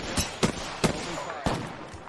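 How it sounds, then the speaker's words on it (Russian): Gunfire in the video game Apex Legends, four separate sharp shots at uneven intervals, moderately loud and a little distant, heard alone without talk. "Стрельба под нами"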